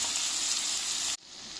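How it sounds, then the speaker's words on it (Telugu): Tomatoes frying in a pan for paneer ghee masala give a steady, loud broadband sizzle that cuts off abruptly near the end, leaving a quieter hiss. "టమాటా ఈ రకంగా వేగినాక"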